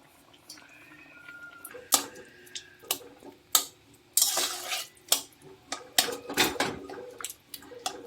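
Poppy seed paste being stirred into a drumstick and potato curry in a pan, with a run of sharp, close spatula scrapes and clinks against the pan and a soft wet mixing sound between them.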